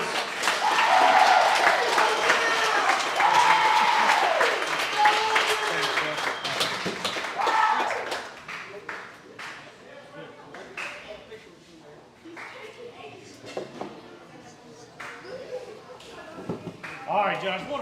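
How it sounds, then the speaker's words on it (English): An audience applauds a high school football player at a coach's show, clapping dense at first and then thinning out, with talking over and after it. "Everybody give a big round of applause for Preston"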